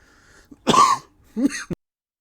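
Two coughing bursts close to the listener, the first a harsh, forceful cough and the second shorter, with a quiet gap between them.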